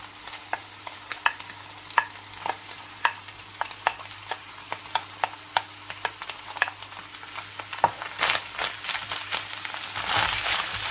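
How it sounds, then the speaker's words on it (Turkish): Minced meat sizzles in a frying pan as chopped onion is added and stirred, with a steady fry hiss broken by regular scraping strokes of a utensil, growing louder and busier toward the end. "Arkadaşlar gördüğünüz gibi tavamda kıymam vardı. Söylediğim gibi. bu da ilave ediyorum. Soğanımı önce ilave edeceğim."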